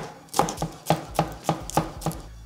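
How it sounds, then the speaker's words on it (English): Shadon beni herb is chopped roughly with a knife on a board in the kitchen, seven crisp, evenly spaced chops close up. "So just gonna chop the Shadon Beni roughly."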